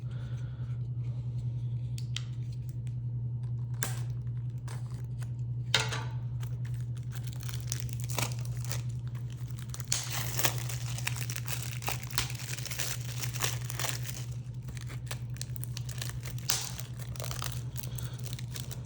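Plastic and shrink-wrap packaging crinkles and crackles as a Ben-Hur 4K UHD disc case is opened, with scattered clicks and rustles over a steady low electrical hum, close and fairly quiet.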